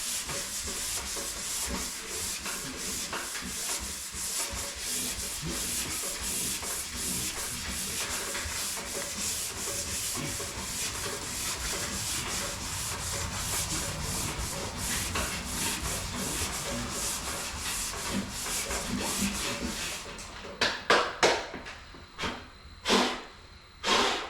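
Body filler on an XA Falcon GT fender is sanded with crisscross strokes, a steady close abrasive rasp that runs continuously, then breaks into separate short strokes with gaps near the end.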